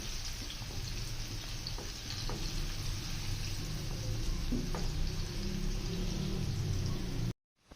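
Chopped onions frying in about half a cup of oil for a cabbage keema, a steady close sizzle and crackle like light rain that runs without pause before cutting off abruptly.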